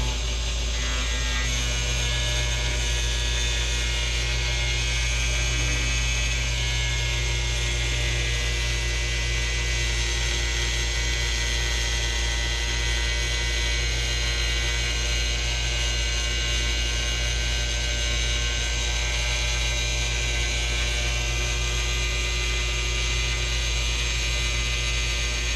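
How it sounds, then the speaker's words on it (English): A V2 needle cutter machine cuts a full sheet at about 20 millimetres per second, giving a steady, loud mechanical hum with a continuous fine ratcheting buzz that holds unchanged throughout, with no voices. "I love seeing it go around those curves and cut them nice and smooth and clean"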